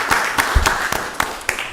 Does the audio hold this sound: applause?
yes